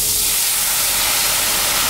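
Hot water from a kettle hits a pan of rendered guanciale fat, giving a loud, steady hiss and sizzle up close that carries on without a break.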